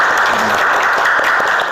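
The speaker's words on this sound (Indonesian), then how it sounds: "beri tepuk tangan untuk kalian semua" Schoolchildren in an art class applaud one another, a loud close burst of many hands clapping in a classroom, dense and steady for under two seconds.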